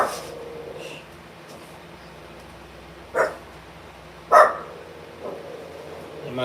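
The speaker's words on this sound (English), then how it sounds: "And my dog is acting up." A dog barks indoors with a couple of sharp, fairly close barks a second apart, followed by a softer yip, over a quiet room background.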